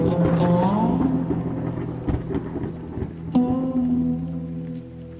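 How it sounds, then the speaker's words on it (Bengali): A cartoon sound effect of torrential rain and rumbling thunder: a loud, continuous downpour with thunder cracks, mixed with sustained musical tones and a sharp burst partway through. "মুষল ধারায় বৃষ্টি নামে।"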